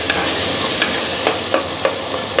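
Tomatoes sauté in a hot pan with a loud, constant sizzle, broken by several scraping stirs of a spoon at irregular intervals, close up and with no talk.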